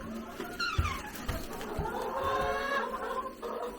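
Chickens on a family farm cluck and chatter in a coop bedded with shavings, a busy mix of nearby calls with a few sharp clucks under faint background voices.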